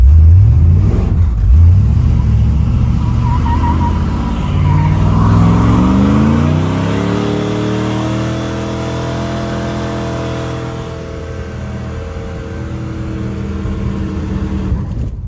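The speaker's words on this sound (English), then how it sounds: "we're going to end off the video with a big burnout" Car engine revving hard during a big burnout, loud and close, with a rising roar that climbs in pitch and then holds a sustained high rev before easing off, with no talking.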